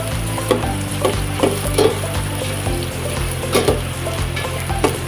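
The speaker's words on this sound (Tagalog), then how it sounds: "igisa-gisa natin yan hanggang sa lumabas yung lasa" Ginger sautéing with onions over medium heat for a tahong mussel stew, a loud close sizzle with a low steady hum underneath and periodic scraping stirs of a spatula in the pan, no speech.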